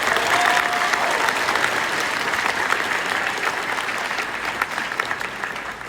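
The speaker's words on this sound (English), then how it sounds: "How about a big round of applause for them?" A large crowd at a high school graduation ceremony applauds the principal and staff, a loud, continuous roar of clapping that stays steady and slowly eases off, with no speech over it.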